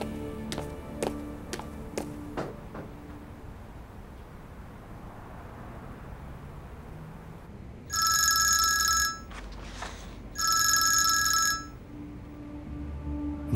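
A phone rings in two long electronic bursts with a pause between them, clear and fairly loud after a quiet stretch with a few faint taps at the start.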